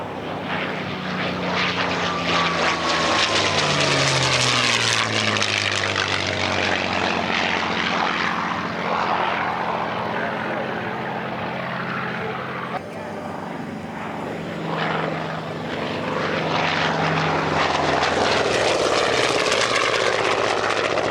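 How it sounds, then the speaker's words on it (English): A North American P-51 Mustang propeller plane flies past at an Oregon airshow in McMinnville, its engine drone rising and falling in pitch as it passes, with an announcer talking over the roar. "the North American Mustang"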